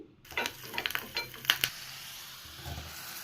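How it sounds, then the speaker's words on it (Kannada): Garlic frying in oil in a pan for capsicum masala rice, with a steady low sizzle, a few sharp utensil scrapes and clicks early on, then a quieter simmering hiss, fairly faint and close with no talking. "ನಾನು ಆಗಲೇ ಬೆಳ್ಳುಳ್ಳಿ ಮಿಸ್ ಮಾಡಿಬಿಟ್ಟಿದ್ದೀನಿ ಈಗ ಇದನ್ನ ಎಣ್ಣೆಯಲ್ಲಿ ಫ್ರೈ ಮಾಡ್ಕೊತಾ ಇದ್ದೀನಿ"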